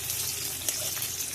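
Garlic and ginger frying in oil left over from frying potatoes, a dense, even crackle and sizzle at close range with a faint tick or two.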